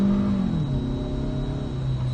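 A Toyota RAV4 accelerates with a steady mid-pitched engine hum and a slowly rising whir, heard from inside the cabin at constant loudness, with no talk.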